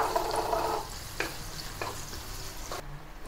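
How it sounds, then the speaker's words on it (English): Sliced onion sautéing in melted ghee, giving a soft steady sizzle broken by a few brief stirring scrapes, close but fairly quiet. "When the ghee is melted, add the sliced onion and saute the onion until it becomes soft."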